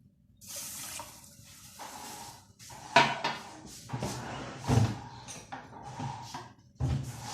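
Half a cup of water poured into a pan with sugar for syrup, a faint splashing pour among clinks of dishes and kitchen handling noises.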